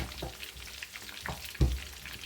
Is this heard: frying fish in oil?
yes